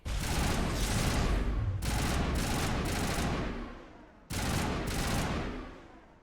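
Rapid automatic weapon fire in Mass Effect, loud and sustained bursts: a long stream, then a few short volleys, a pause, and another burst.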